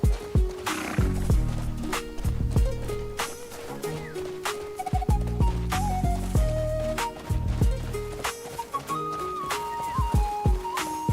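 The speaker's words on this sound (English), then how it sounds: "just coming by on my horse." A horse in the video game Crimson Desert, with steady clip-clop hoofbeats, whinnies and snorting over a dense, loud game soundtrack, with no speech.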